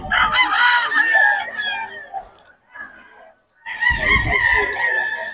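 SBR rooster at a Bocaue poultry market crowing loudly and up close, two long crows separated by a brief pause, clear and prominent with no talk over them.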